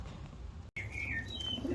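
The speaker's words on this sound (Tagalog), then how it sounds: "Ayan na yung mga kalapati natin" Domestic pigeons coo softly amid a faint chirp or two, with a brief flutter of wings nearby; short, quiet, and close.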